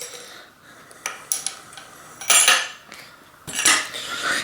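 Greased RockShox Metro fork parts are dropped into place, making a few sharp metallic clinks and rattles in separate bursts, the loudest two near the end, with quiet pauses between.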